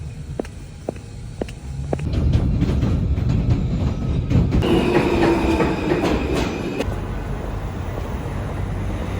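A New York City F subway train rumbles steadily with rail clatter and a rising metallic screech partway through, then settles back into continuous rolling noise close by.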